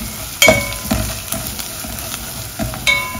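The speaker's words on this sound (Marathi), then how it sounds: "मसाला चांगला परतून घ्यायचा आहे।" Masala spices fry in a pan for a bitter val bean bhaji, a steady close sizzle with a few sharper stirring scrapes and crackles rising above it.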